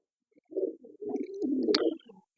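Large pigeons giving a short, low, throaty coo in a couple of close soft bursts, alone and quiet.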